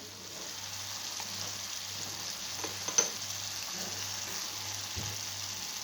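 Mushrooms, meat and potatoes fry in a pan with salt, black pepper and chili flakes, giving a steady low sizzle with faint scraping as the mixture is stirred, plus one brief clink near the middle.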